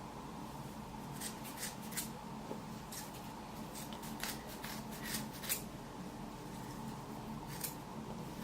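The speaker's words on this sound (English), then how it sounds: "Now that all the hair is cut" Scissors cut through box braid hair in quick, irregular close-up snips, repeating over a low, steady background hiss.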